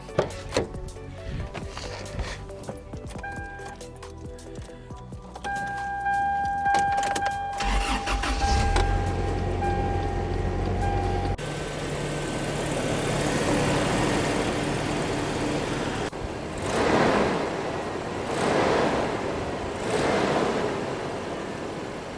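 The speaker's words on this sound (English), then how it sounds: "Let's start her up and see what it sounds like." A 1997 Toyota Tacoma pickup engine cranks, catches and settles into a steady running rumble, with some clatter and ticking early on and swelling surges later.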